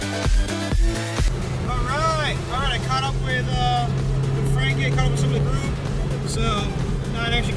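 Turbo Mazda Miata driving on a road rally, a steady engine drone and road noise running throughout, with a person talking over it for much of the time.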